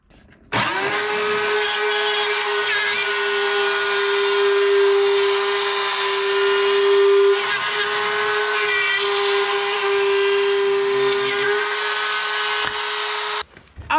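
Ryobi power tool plunge-cutting through drywall, a loud steady high-pitched motor whine running about thirteen seconds with slight pitch wavers as the blade bites, starting and stopping abruptly.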